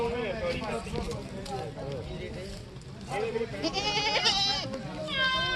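A goat bleats several times nearby at a goat market in Sukhna Ablu village, wavering cries rising over someone talking and outdoor crowd noise.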